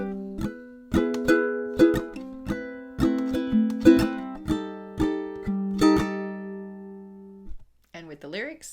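A ukulele plays bars 67–70 of a song as a steady series of plucked chords and single notes. A voice briefly starts speaking at the very end.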